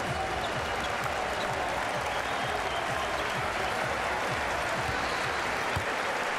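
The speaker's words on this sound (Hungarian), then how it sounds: "Bogdanović is óriási tapsot kap." Steady, dense applause from a large arena crowd at the 2014 FIBA World Cup basketball final between the USA and Serbia, sustained and even throughout with no pauses.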